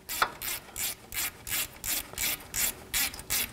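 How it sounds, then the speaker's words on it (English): A bolt on a lower ball joint bracket of a 2007-2014 GMC Sierra 3500 HD truck being tightened with a ratchet, giving about nine steady, evenly spaced rasping clicks in a regular rhythm, close and clear with no talking. "take the bolt, get that started. And tighten this down."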